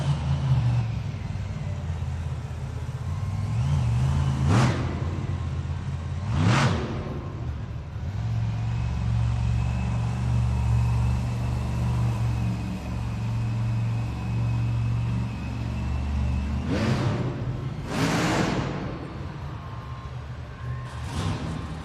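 A 12,000-pound Monster Jam truck struggles to shift in an arena, its engine holding a deep rumbling idle punctuated by several loud revving surges that rise and fall.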